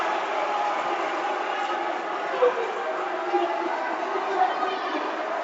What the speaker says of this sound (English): Crowd here chanting for the technical